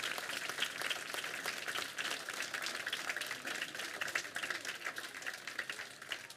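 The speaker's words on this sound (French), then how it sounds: "Vous pouvez de nouveau applaudir les élèves de l'option théâtre du lycée Paul Pinlevé" Steady, fairly soft applause from an audience for high school theatre students at a November 11 commemoration in Oyonnax, thick, even clapping sustained without a break.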